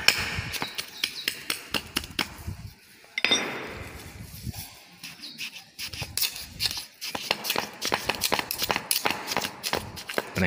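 A hand ramming tool packs sand into a casting mould with rapid, repeated dull thumps and scrapes, close by, in irregular bursts with short pauses.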